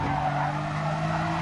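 Race car tyres squealing and skidding under late braking in an M4 league racing game, a short, continuous screech over the engine drone, fairly loud and unbroken.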